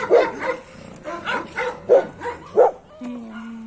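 A golden retriever barks in a quick series of sharp, close yaps, five or six in a row, followed by a brief whine at the end.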